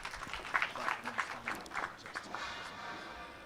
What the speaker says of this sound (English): Clap for yourself, please.